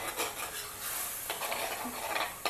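Chopped onions sauté in oil for a Tamil Nadu style chicken curry: brief stirring scrapes and a soft sizzle sound close by for a couple of seconds, with no voices.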